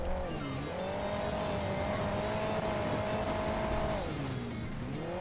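Engine of a car in Hill Climb Racing 2 holds a loud, steady high whine as nitro kicks in, then drops pitch near the end and climbs again, continuous throughout.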